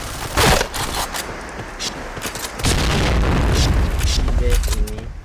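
Grenade blasts in the shooter game Point Blank, heavy booms with crackling debris and scattered gunfire, loud and close with game voices over them.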